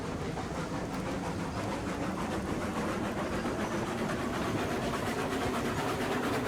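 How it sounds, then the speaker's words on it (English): A locomotive pulling several log rail cars in the railroad simulation game Railroads Online gives a steady, dense rumble with faint rhythmic clatter, running continuously and alone without any voices. "We've actually got ourselves a train."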